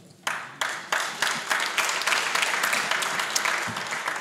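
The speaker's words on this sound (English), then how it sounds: "So that deserves a round of applause." An audience at a graduation gala breaks into applause, claps starting sparse and quickly building into a dense, sustained round of clapping from a crowded room, fairly close and loud.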